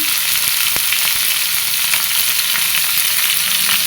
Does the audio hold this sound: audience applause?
no